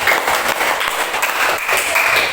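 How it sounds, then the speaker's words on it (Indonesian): A classroom full of people claps in steady, dense applause that carries on throughout at a loud, even level. "Tepuk tangan juga."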